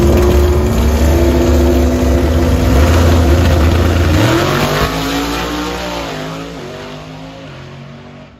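Loud roaring engines of S10 racing trucks launching side by side in a drag race, revving hard and shifting up through gears before fading into the distance.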